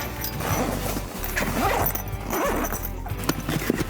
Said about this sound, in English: The window unzips pretty easily